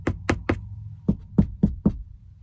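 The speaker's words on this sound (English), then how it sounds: "knock on wood" Seven sharp knocks on wood, three quick raps followed by a short pause and four more, close and crisp with no voices.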